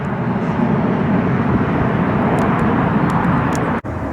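A 737 airliner in breast cancer awareness livery roars loudly overhead on takeoff from Cleveland, a dense steady jet rumble holding through the whole stretch before briefly cutting out near the end.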